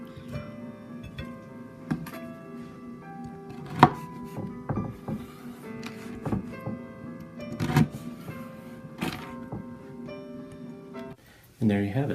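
A knife slices a tray of chewy cookie bars into squares in a home kitchen, giving several sharp cutting knocks against the pan at irregular intervals beneath ongoing talk.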